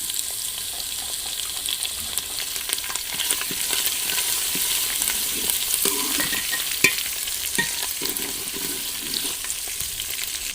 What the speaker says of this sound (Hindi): इसमें हम डालेंगे अदरक लहसुन का पेस्ट।